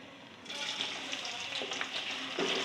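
Onions dropped into hot oil for a saag tadka, a sudden burst of sizzling that starts abruptly and keeps crackling and hissing steadily, close and moderately loud, with some stirring.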